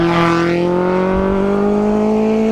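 Loud motor vehicles, likely motorcycles, pass by close to the microphone on a road during a marathon, with a strong engine drone whose pitch slides steadily throughout.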